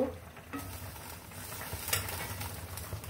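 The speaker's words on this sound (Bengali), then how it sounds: "এখন এটার মধ্যে আমি মাছগুলো সব দিয়ে দিব।" Puti fish in a pan with a little water, cooking for a spicy Bangladeshi chochchori, with a steady close sizzle and occasional scraping stir sounds, no talking.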